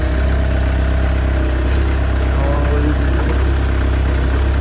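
A large gas-powered hydrostatic forklift runs steadily at idle, its deep, continuous engine drone close and unbroken with a low rumble throughout and no talk.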